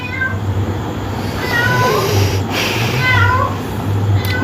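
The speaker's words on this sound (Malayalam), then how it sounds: "പൂച്ചയും ഉണ്ടായി." A cat meows several times in short, rising calls over a steady low hum of background noise, with no one speaking.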